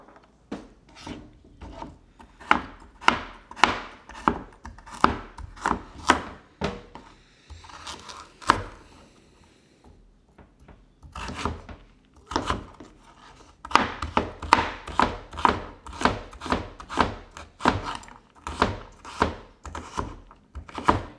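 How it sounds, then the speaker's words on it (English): Peeled carrots are finely chopped with a knife on a wooden board, giving rapid runs of sharp, close knife thunks in steady bursts with a brief pause midway and no talking. "Right here, I have peeled my carrots, and we are just going to finely chop them."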